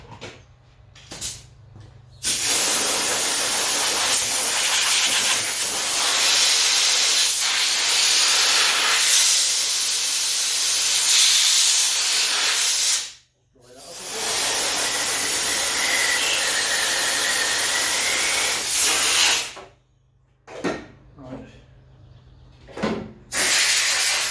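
Compressed-air blower used while working on a Ford GPW Jeep's oil line and carburettor, loud sustained hissing bursts of about ten seconds each, broken by short pauses and a few quick puffs near the end.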